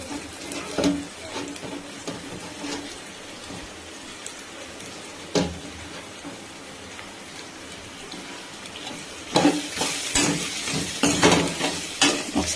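Smashed boiled potatoes tumble into a hot pan and get stirred, giving soft scraping and a light sizzle with louder bursts of stirring toward the end.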